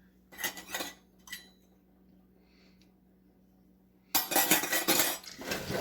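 Metal measuring cups clink and rattle while cornstarch is scooped, with a few light taps early, a quiet pause, then a burst of louder, closer clattering and scraping at the end.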